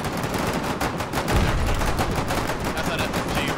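Rapid bursts of automatic gunfire in the war game Foxhole, loud and close, a steady stream of sharp shots with a heavier thump midway.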